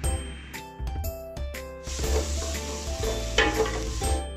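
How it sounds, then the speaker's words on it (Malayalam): Chopped onions sautéing in a pan for Palakkadan kayachar, a steady sizzle with stirring clinks and scrapes of a spoon against the pan throughout, close and fairly loud. "ഇനി ഇതിലേക്ക് സവാള ചേർത്ത് കൊടുക്കാം സവാള ഒന്ന് ചെറുതായി വഴന്നു വന്നതിന് ശേഷം"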